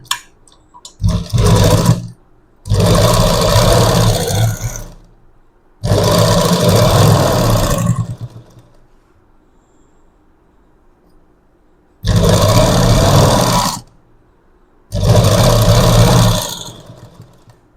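A sewing machine stitches piping onto the waist of a garment, running loud and close in five bursts of steady whirring with quiet pauses in between.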